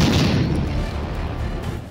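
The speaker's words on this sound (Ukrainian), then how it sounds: "Постріл." A single heavy tank gun blast booms at once, then a broad rumbling decay fades out over the next two seconds.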